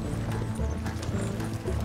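Galloping horses in the video game Red Dead Redemption 2, a steady rhythmic clip-clop of hooves close up with a low rumbling background and an occasional faint whinny, no talk over it.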